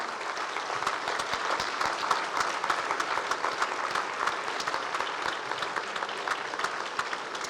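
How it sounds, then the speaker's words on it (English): An audience at an evening awards gala applauds the parents of a scholarship recipient, a dense, steady wash of many hands clapping that holds evenly from start to finish with no talk over it. "can we give them a round of applause"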